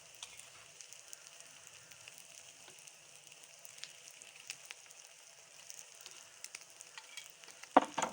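A paratha cooking on a pan with egg being added to one side gives off a faint, steady sizzle and crackle, ending in a couple of sharper clatters near the end.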